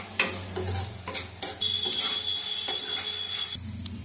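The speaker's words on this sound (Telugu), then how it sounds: "ఇప్పుడు బాగా కలిపేద్దాం" Salt being stirred into food in a cooking pan, with a spoon scraping and clinking against the metal in irregular strokes over a low sizzle, close and fairly loud, with no talking.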